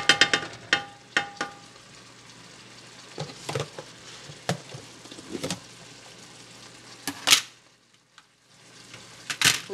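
Shrimp heating through in hot oil and butter sizzles softly in a pan, with sharp clinks and scraping stirs breaking in at intervals; no talking.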